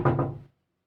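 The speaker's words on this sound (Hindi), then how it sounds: "2-3 बार दस्तक देने पर भी द्वार नहीं खुला" A quick double knock on a door, two dull thuds close together and close by, followed by complete silence.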